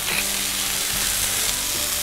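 Pork neck steak sizzles loudly and steadily in a frying pan with salt, pepper and soy sauce, a dense continuous crackle and hiss with no talking.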